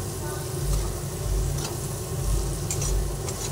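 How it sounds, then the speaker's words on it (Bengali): Potatoes frying in a pan with spices including Kashmiri chili powder, a steady close sizzle with soft rhythmic thumps of stirring throughout. "ভালোভাবে আলুর সঙ্গে দেখুন মশলাগুলোকে কষিয়ে নিচ্ছি"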